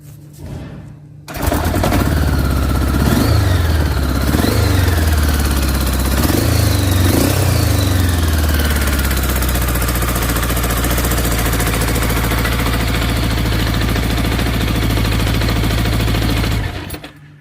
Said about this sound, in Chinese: 谢谢大家听一下这代发动机声浪。